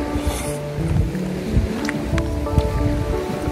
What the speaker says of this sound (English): So it's a windy night.